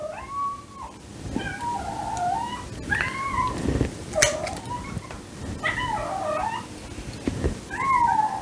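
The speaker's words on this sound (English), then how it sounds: "My cat's not happy, if you can hear her." A cat meows repeatedly in plaintive, wavering cries, spaced a second or two apart, over a low background rumble.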